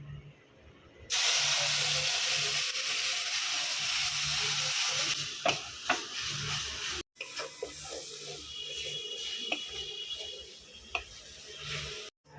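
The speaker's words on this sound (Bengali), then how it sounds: "পেঁয়াজ, আদা, রসুনটা ভাজা হয়ে গেছে" Ground onion, ginger and garlic paste fries in hot oil in a pan with a loud, steady hiss and sizzle, then softer spattering broken by stirring scrapes and clicks nearby.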